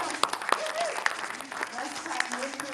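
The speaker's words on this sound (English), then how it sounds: "Yeah, we can clap for that." An audience at a community celebration claps, with several distinct claps over a mix of crowd clapping while voices chatter and murmur underneath throughout.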